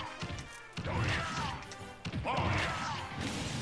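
Ganondorf lands heavy forward smash hits in the Super Smash Bros fighting game, two loud crashing impacts with booming thwacks, each followed by a rumbling tail.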